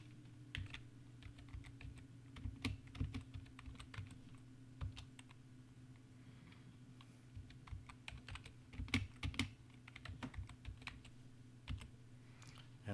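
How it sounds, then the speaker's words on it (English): Keys clatter on a computer keyboard in irregular bursts of quick taps with short pauses, fairly close and quiet over a low steady hum. "Let's start by typing in our transition matrix."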